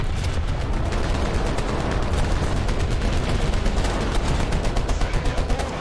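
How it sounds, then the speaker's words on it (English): Artillery and gunfire rattle through a video game battle, a dense stream of rapid cracks and booms that stays loud and steady from start to finish. "I'll put some artillery right down here."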